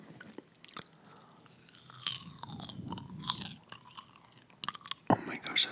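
Popcorn is eaten close to the microphone, with crisp crunching bites and wet chewing in uneven bursts; occasional soft vocal sounds sit between the chews.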